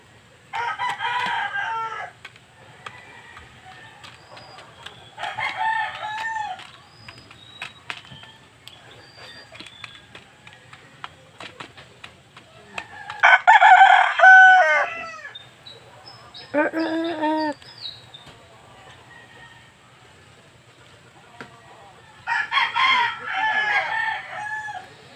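Chickens in a backyard coop cluck and crow around a hen's nest holding three eggs, calls coming in bursts with a loud crow near the middle and another at the end, and someone speaking faintly between them.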